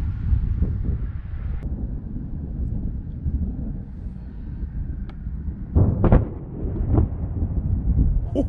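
Booming thunder from a nearby lightning storm over Fort Erie near Niagara Falls, a sharp loud crack around the middle followed by rolling rumbles over low wind noise across the microphone.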